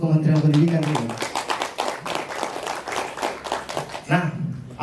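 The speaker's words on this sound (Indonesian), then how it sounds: "saya kira kita tepuk tangan untuk Kementerian Pendidikan ini" An audience at an Indonesian education presentation gives a round of applause, many sharp claps in a loose rhythm, mixed with voices and fading slightly toward the end.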